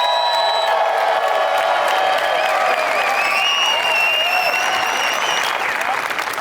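A large live audience at a talk event bursts into loud sustained applause with cheering and whoops, a dense roar of clapping throughout.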